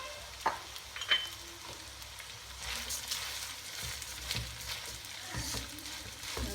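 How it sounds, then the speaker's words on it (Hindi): Rice and sugar sizzle and scrape in a pot while being stirred for sweet zarda, with a few sharp spoon knocks and bursts of frying noise against a steady hiss. "इनको हम अच्छी तरह से एक दफ़ा मिक्स कर दें"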